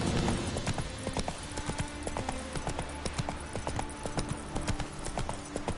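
A horse gallops in The Witcher 3 video game. Its hooves clip-clop in a steady, rapid rhythm that stays close and fairly loud the whole time, with the game's ambient sound underneath.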